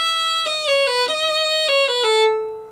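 Violin playing a quick passage from a song, a run of rapid bowed notes stepping through pitches including a triplet figure, bright and close, ending on a held note that fades.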